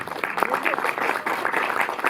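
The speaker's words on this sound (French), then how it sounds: "vous pouvez les applaudir" Applause fills a cinema audience at the Méliès in Montreuil, dense and continuous clapping from many hands that holds steady and close for a couple of seconds.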